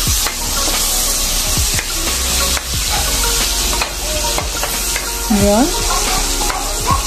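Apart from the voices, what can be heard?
onions frying and being stirred in pan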